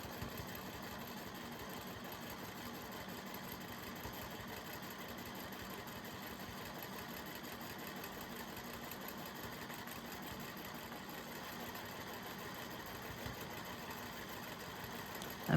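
Sewing machine stitching a quilted grid row on a sky quilt, a steady continuous mechanical whir that holds an even level throughout, fairly quiet, with no talk.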